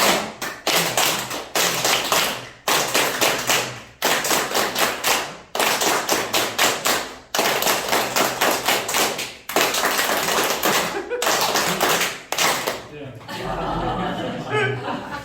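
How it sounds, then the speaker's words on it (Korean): Audience at a Korean humanities lecture doing a stepped rhythmic clapping game, bursts of quick claps in counted groups separated by short pauses, with chuckles and voices mixed in and a looser clatter at the end. "7계단 박수 한번 쳐보겠습니다"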